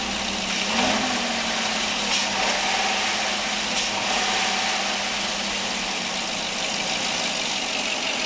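A car converted to sequential-injection CNG idles on ordinary petrol, giving a steady, close mid-range engine hum with a faint whine and a low, even rumble, no voices.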